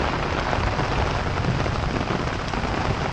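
Heavy rain pours down in the Philippines, a dense, unbroken roar of drops hitting surfaces at close range, steady and loud throughout before cutting off abruptly at the end.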